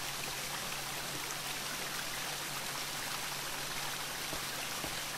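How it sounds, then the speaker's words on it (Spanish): Water pours steadily from a pipe in the Jack Keane adventure game, a continuous hissing, splashing stream with no pauses, moderately loud and on its own without voices. "Está cayendo agua por otro lado, ¿eh?"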